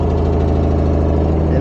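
An RV furnace fan rattles loudly inside a bus on a freezing night, a steady dense mechanical drone with a low hum running without pause.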